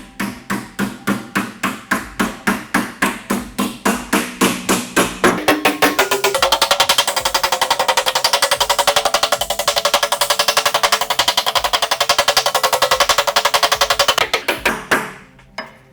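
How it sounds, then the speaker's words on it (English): Steady metal hammering as a flange on a roadster body panel is formed over a clamped buck, with loud, rapid, evenly spaced blows that speed up into a dense continuous rattle before stopping near the end. "My goal is to hammer this flange down"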